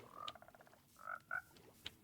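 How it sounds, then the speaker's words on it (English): Cartoonish frogs croak in a cozy building video game, several short croaks in a loose sequence, clear and close with a quiet background, no one talking. "Frogs. Oh, you're so cute."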